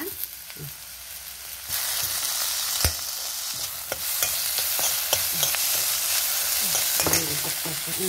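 Tomato roasting in a pan for a Tamil Nadu style mixed vegetable curry, with a steady close sizzle that grows louder partway through, broken by repeated scraping clicks of a spoon stirring over about eight seconds.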